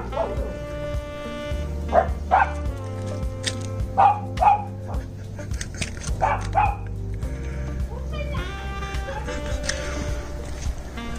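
Several dogs barking outdoors near a dog house, repeated sharp barks and yips in irregular bursts, fairly close, with a tonal background hum running beneath and a quieter stretch toward the end.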